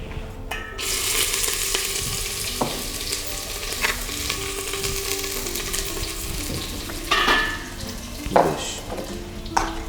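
Sliced onion sizzles and fries in a hot pan for a Bengali doi posto chicken dish, a continuous crackling hiss broken by occasional stirring scrapes.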